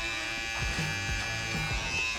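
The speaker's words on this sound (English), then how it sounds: "now we're going to be ready to use my cordless detailers LI" A cordless lithium-ion hair detailer trimmer buzzes steadily up close during a fade haircut, a continuous electric hum with slight shifts as it moves against hair.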